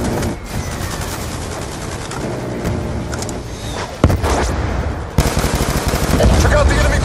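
Rapid automatic gunfire from a Black Ops 2 firefight aimed at an enemy CLAW robot, dense bursts rattling continuously with sharp louder cracks near the middle and end, surrounded by battle noise.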